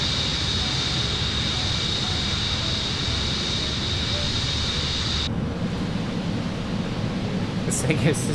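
A supersonic jet's engine roars in a flight simulator game as a steady, dense rumble with a high whine. Partway through the tone drops as the throttle is pulled back. A voice talks over it.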